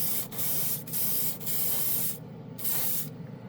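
An airbrush sprays airbrush-ready chrome paint in a steady close hiss, broken by brief pauses as the trigger is released, four or five spurts with no talk.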